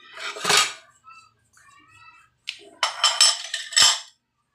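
Dishes and cutlery clatter and clink in short bursts, with a few quiet gaps between the louder rattles of plates being handled nearby.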